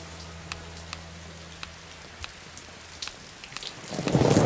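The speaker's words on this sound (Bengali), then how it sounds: "যা বৃষ্টি," Heavy rain pours steadily with scattered drops striking nearby surfaces, and a low rumble of thunder swells loudly toward the end.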